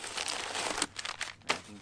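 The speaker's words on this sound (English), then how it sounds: "Wrapping paper, more wrapping paper," A brief handful of wrapping paper crinkles up close while a Saddleback Leather Thirteener thin leather briefcase is unpacked, a crisp rustle followed by a couple of sharper crackles.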